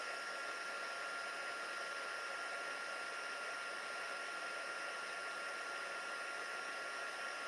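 A heat tool blows a steady, even hiss while melting embossing powder on a handmade card, a constant whooshing drone held close and unchanging throughout, with no speech.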